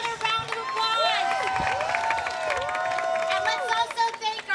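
Parade crowd at a St. Patrick's parade in Sunnyside, Queens, breaking into sustained applause and cheering, clapping dense and close across the whole span, with a whistle-like sweeping tone riding over the noise.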